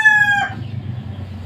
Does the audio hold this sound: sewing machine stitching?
no